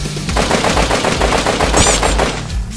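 Rapid automatic gunfire from the video game MadOut2 sounds in a loud, continuous burst of closely spaced shots for almost three seconds, with a brief high ringing tone near the end and no talk over it.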